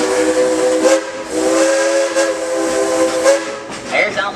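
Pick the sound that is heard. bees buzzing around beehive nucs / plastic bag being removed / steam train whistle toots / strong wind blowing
steam train whistle toots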